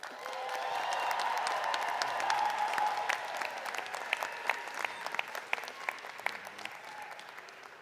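A commencement audience applauds the graduating class of 2025 at a winter ceremony: sustained, dense clapping from a large crowd filling a hall, with a few sharper claps standing out as it goes on.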